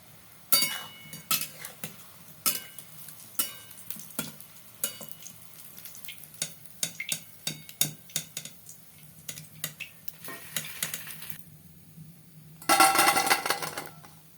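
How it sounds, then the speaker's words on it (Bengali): Palm fritters (taler bora) made with semolina frying in oil, a steady low sizzle at moderate level broken by frequent clinks and scrapes of a utensil against the pan, with a louder burst of sizzling near the end. "তালের ফুলুরিগুলোকে ভেজে নিতে হবে"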